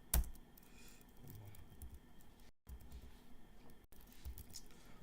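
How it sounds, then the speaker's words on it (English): Quiet computer keyboard typing, soft scattered key clicks under a faint background hum, during a CSS coding lesson. "I'm typing in the wrong place"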